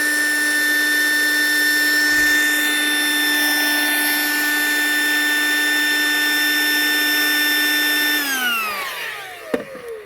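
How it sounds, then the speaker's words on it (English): An electric air pump whines steadily and loudly while sucking air out of an inflatable Sable pool, its high tone holding evenly before winding down and stopping near the end, followed by a brief clack. "you can use a pump to speed it up by just putting your pump here, then sucking"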